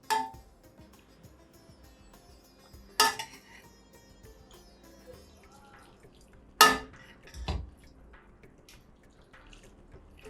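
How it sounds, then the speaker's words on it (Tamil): Boiled drumstick leaves and tomato are strained in a kitchen, with a few sharp splashes and clatters spaced several seconds apart against a quiet background. "நம்ம இப்போ இதை என்ன பண்ணணும்னா இதில் வடிகட்டிக்கலாம்"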